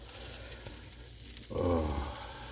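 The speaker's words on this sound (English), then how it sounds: "Dang, I love it when it sizzles." Butter and garlic sizzle steadily in an air fryer, a constant crackling hiss that swells louder partway through, with a low rumbling hum underneath.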